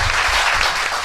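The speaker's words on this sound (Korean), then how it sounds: "박수." Brief, loud burst of audience applause on a Korean talk show, dense clapping filling about a second.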